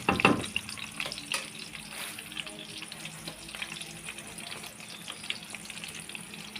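Dried fish (tuyo) fries in a pan with a steady, soft sizzle and crackle, a louder clatter at the start, and no talk.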